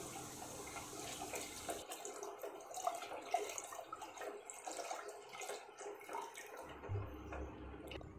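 Thick coconut milk poured into a pot of wheat and rice kheer, a soft continuous liquid splashing and trickling close by, steady throughout with a low thud near the end, no talking.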